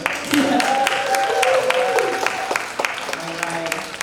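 Applause from a showcase audience fills the space, steady clapping at moderate loudness with a voice speaking over it partway through before the clapping tapers off.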